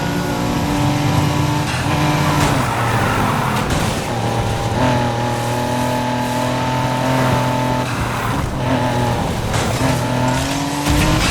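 A police patrol car in Need for Speed Heat drives hard, its engine roaring steadily with shifting pitch and occasional tire squeal, loud and continuous throughout.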